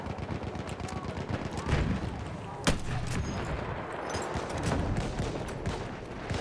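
Gunfire in the World War I shooter Battlefield 1: scattered distant shots and bursts of automatic fire over a noisy battlefield, with one sharp louder crack, while someone talks over the game.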